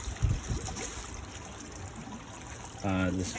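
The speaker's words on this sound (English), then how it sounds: "let the water run over the roots of all of the plants" Water trickles steadily over plant roots in an aquaponic system growing berries and vegetables, a soft continuous wash close by, with a few low knocks early on and a voice speaking briefly at the end.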